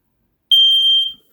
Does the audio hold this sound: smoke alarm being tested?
yes